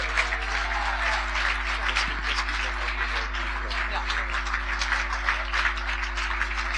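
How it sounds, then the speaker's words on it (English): An audience at a cricket academy opening in Singapore applauds guest of honor MS Dhoni, continuous moderate clapping filling the room over a constant low hum, with scattered voices among the crowd. "Let's put a warm round of applause here for our guest of honor"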